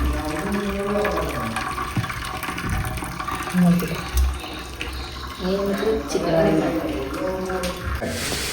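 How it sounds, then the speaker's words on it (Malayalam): Water draining off freshly cooked rice in a home kitchen, a steady pouring and splashing rush that swells and fades over several seconds, with speech-like tones mixed in. "ആദ്യം ഞങ്ങൾ വെള്ളമൊക്കെ ഊറ്റി വയ്ക്കും"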